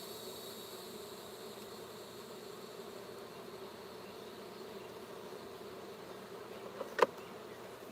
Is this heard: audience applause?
no